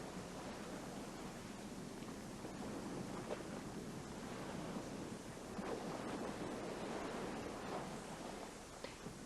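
Ocean waves roll in toward a shoreline where pelicans hunt, a constant, faint, broad wash of surf with soft swells and wind noise, no voices present.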